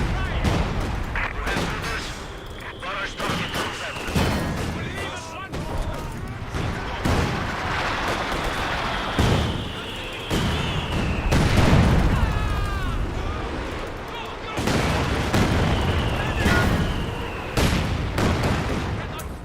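Soviet artillery and battlefield fire in the video game Company of Heroes 2: repeated loud booming bursts and crackling gunfire, near and continuous, with descending whistles of incoming shells between the blasts.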